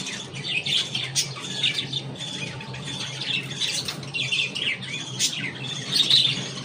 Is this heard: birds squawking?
yes